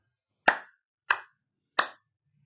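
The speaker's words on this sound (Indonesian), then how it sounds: "Bunyi tepuk tangan." Three sharp, separate hand claps, evenly spaced and fairly close, each ringing briefly before fading into silence.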